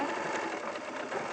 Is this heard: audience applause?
no